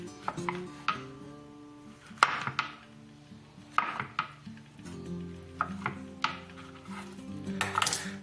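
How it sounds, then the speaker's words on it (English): A knife slices big portobello mushrooms into semi-thick slices on a cutting board, sharp, close thunks repeating at an uneven pace, each with a faint clatter, and no talking. "We're gonna take these and chop them in semi-thick slices."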